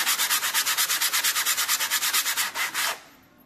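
Rapid back-and-forth sandpaper strokes rasp on a Tamiya cutter blade, about eighteen even, close strokes in quick rhythm before stopping abruptly, with no talk.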